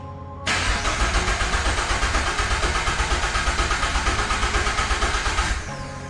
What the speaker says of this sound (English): the car will just sometimes crank and not actually start up